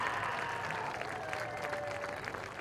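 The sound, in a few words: audience applause for senior football players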